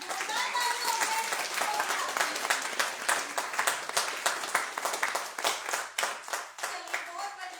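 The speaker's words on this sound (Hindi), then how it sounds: "एक बार जोरदार तालियां हो जाए।" An audience at a product training session claps loudly with distinct, rhythmic hand claps, strong and close, swelling and thinning over several seconds, with some voices mixed in.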